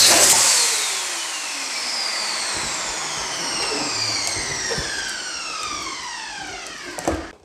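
A digital balloon inflator pump blows up a large and a small balloon at once on its two nozzles, a steady motorized whir with rising stretching tones as the balloons fill, ending in a brief louder burst near the close.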